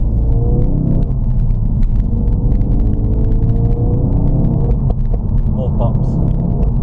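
A Ford Focus RS in Sport mode rumbles loudly from inside the cabin, its engine droning as revs rise, with sharp crackling exhaust pops scattered through the run.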